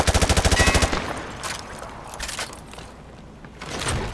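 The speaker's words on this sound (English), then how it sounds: "Shoot the target through the wood" Rapid automatic rifle fire in Call of Duty MW2 Remastered, a loud close burst of about a dozen evenly spaced shots aimed at a target through wood, then scattered clanks and thuds from the firing range.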